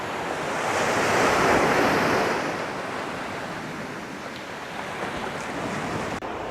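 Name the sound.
ocean waves on a beach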